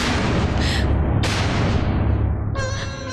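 Gunfire in a Hindi action movie, a dense, loud barrage of booming shots and blasts that fills the whole stretch with continuous heavy noise and no clear pauses.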